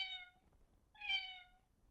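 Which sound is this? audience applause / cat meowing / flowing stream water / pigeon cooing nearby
cat meowing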